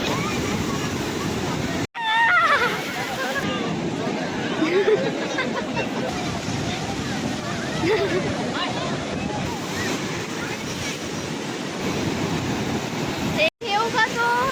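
Heavy sea waves at Puri beach on the Bay of Bengal surge and roar continuously, mixed with wind buffeting and a distant crowd murmur, with brief people's voices.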